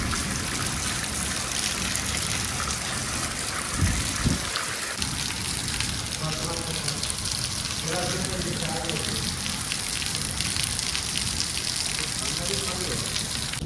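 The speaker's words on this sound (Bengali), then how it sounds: "আর এখনো বৃষ্টি পড়ছে দেখতে পাচ্ছ" Heavy rain falls in a village during a storm, a steady dense hiss of downpour filling the whole stretch, with faint voices and brief sounds briefly breaking through.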